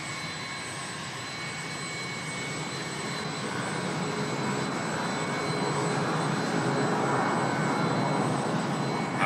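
A jet airliner's engines give a steady, loud broadband roar that swells slightly over its length, heard alone with no voices.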